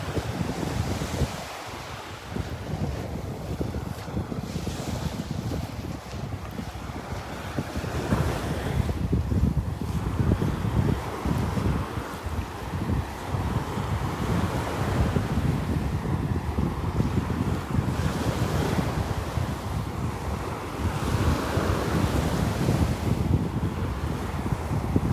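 Gulf of Mexico surf rolls onto the beach at North Naples, Florida, in a continuous loud wash with heavy wind buffeting the microphone, and no voices.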